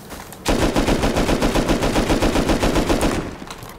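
LR rifle fired in Rust, a loud, close volley of rapid, evenly spaced shots running continuously for about three seconds before fading out.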